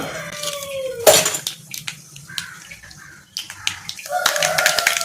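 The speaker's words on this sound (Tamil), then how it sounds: "இப்போ கடுகு உளுத்தம் பருப்பு வெடிச்சிட்டுங்க" Sharp crackles and pops of mustard seeds and urad dal lentils spluttering in hot oil, scattered bursts with a loud crack near the start, over a steady sizzle.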